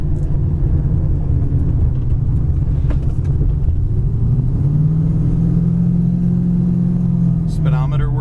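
A 1974 Plymouth Duster cruises down the road, its engine a steady low rumble with a rising tone midway as it pulls along, heard from inside the car.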